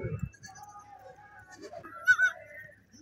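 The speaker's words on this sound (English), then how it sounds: "Going to go check the baby goats." Baby goats bleat faintly on a farm in South Sudan, a thin call or two rising over quiet outdoor ambience after a brief low rumble at the start.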